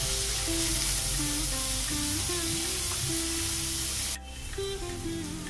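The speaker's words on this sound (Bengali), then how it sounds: "পেঁয়াজটাকে আমি বেশি ভাজবো না, জাস্ট বাদামি রঙ এলেই তারপরে চিকেনটা ওর মধ্যে দিয়ে দেবো" Onions sizzle steadily in a frying pan, cooked only until lightly browned before chicken goes in for a stuffed bread filling. Continuous close frying hiss with soft music underneath, dipping sharply in level near the end.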